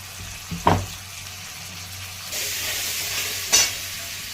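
Green chilies, garlic and ginger hit a hot pan with a steady sizzle, marked by two sharp clattering stirs and a louder hiss that rises partway through.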